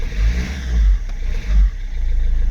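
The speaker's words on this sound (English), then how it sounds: "Give her a bit of rev" An MG ZTT diesel car engine revs up in several short surges over a low idle, close and loud, with no talking.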